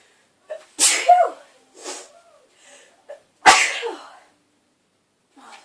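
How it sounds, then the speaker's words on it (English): Two sharp sneezes ring out close by, each with a quick inhale before it, followed by a few soft breathy sounds. "I'm going to sneeze."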